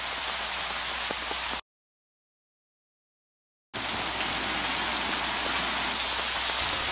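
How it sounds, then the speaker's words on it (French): Heavy summer rain pours down in Romania, a dense, even hiss of drops on surfaces that cuts out briefly to silence and then resumes just as strongly. "un déluge d'eau a fait que nous portons des parapluies et non des ombrelles"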